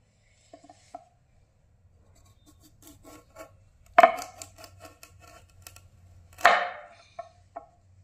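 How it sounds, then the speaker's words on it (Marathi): A knife cuts a carrot into thin lengthwise slices, with sparse, quiet taps and two louder, sharper cuts against a board in a hushed room. "गाजराचे उभे काप करायचे"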